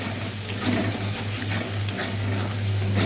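Ground cumin and coriander powder being stirred and fried in a pan for palak paneer give a steady, soft sizzle with light scraping, continuous and close, with a low hum underneath and no talking.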